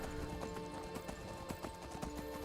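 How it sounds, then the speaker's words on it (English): Horse hooves clip-clop in a steady riding rhythm through rainy southern Skyrim in the video game, close and continuous with a faint whinny, no talk over them. "Silent assassin riding horse through, yeah, southern Skyrim, drenched to the bone."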